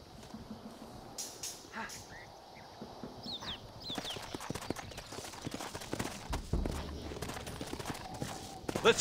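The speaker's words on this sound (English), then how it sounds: "Looks like Carlos left us some horses." Horses clip-clop in the Red Dead Redemption video game, a run of hoofbeats on the ground that grows busier and louder toward the end, with faint ambient sounds around.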